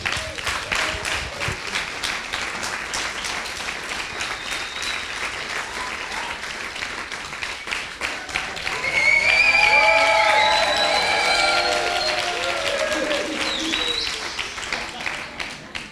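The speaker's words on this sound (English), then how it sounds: "So please give a big applause to Dale Harris." Sustained applause from a large audience, steady clapping throughout with some cheers and whistles swelling louder toward the middle.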